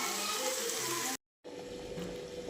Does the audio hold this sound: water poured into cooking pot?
yes